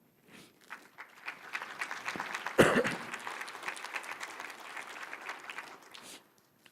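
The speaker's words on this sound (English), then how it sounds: "So I want to give the council members another round of applause" Audience applause at a city's State of the City address builds quickly into steady clapping, peaks briefly, then tapers off and fades out.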